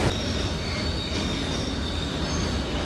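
The Tutari Express train rolls steadily along the rails with a continuous rumble and a thin, high wheel squeal running throughout.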